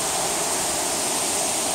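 River water pouring over a dam at an abandoned paper mill, a loud, dense roar of falling water filling the scene steadily and close by, with no voices.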